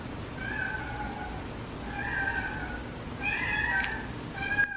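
A domestic cat with a ball held in its mouth gives several muffled, drawn-out meow-like cries, spaced a second or two apart, moderately close over a faint steady background hum.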